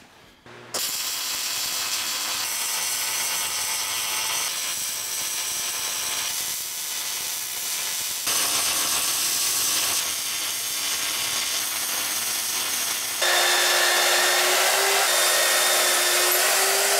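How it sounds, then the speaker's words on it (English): A magnetic drill bores holes in steel plate for a shipping container dolly build, giving a loud, continuous whirring grind that holds steady for the whole stretch, with slight shifts in pitch and load partway through. "I'm just going to use the mag drill"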